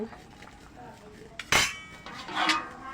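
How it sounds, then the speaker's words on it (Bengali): A spoon scrapes and clinks against a pot as bitter gourd and potatoes are stirred into a curry. A sharp clatter is followed by softer scraping, with faint speech in the background. "এই কেটে রাখা উচ্ছে আলুগুলো দিয়ে দেব নাড়িয়ে দেব"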